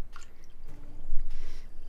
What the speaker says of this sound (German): Erstmal was zu trinken einschenken.